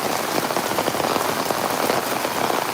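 Hail and rain pour down steadily onto surfaces outdoors, a dense, loud, continuous patter with no talk.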